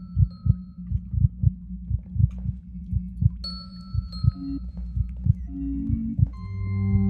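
A loud, steady game heartbeat thumps in a regular rapid rhythm, each beat a deep low pulse, while tonal beeps and chirps from the game enter partway through.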